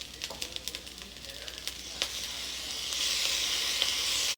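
Fried rice with scrambled eggs sizzles steadily in a hot pan as everything is stirred together, with scraping taps early on and the frying hiss growing louder and denser toward the end.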